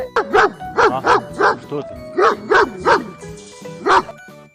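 A dog barks in a rapid series of about nine close, loud woofs, grouped in short bursts with brief pauses between.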